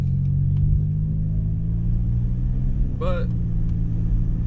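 Steady low road rumble from a car driving along a highway, continuous and close throughout, with a brief voice cutting in near the end.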